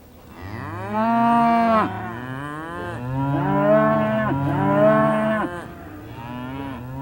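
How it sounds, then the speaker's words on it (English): A herd of cows at a railway station on an island, lowing in long, overlapping moos, several animals calling in turn at close range and fairly loud, with no talking. "Yes, a herd of cows."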